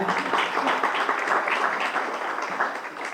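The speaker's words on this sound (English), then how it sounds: "let's give them applause, right?" An audience at a Title IX event applauds a group of standing women, a steady, dense wash of clapping from many hands filling the room without pause.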